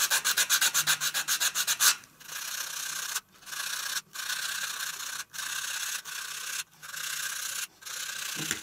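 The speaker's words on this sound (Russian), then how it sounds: "Дальше берем наждачку и выравниваем все грани." Sandpaper scrubbing a small hand-carved wooden fishing lure, first in a quick string of short rhythmic strokes, then in longer sustained rubbing passes broken by brief pauses, close and clear with no talking.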